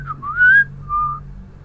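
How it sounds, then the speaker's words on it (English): A person whistles lightly, a short clear rising note followed by a brief steady tone, alone without talk. "Just gonna whistle lightly."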